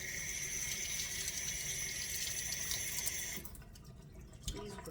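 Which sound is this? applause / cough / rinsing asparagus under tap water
rinsing asparagus under tap water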